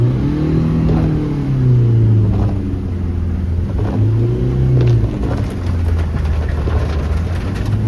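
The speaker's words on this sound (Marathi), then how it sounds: "रेस देत देत देत देत जावं लागतं." A car engine revs hard and keeps revving while the car pushes through flood water during heavy rain in Virar, producing a loud, continuous drone that rises and falls, with water swishing around the car.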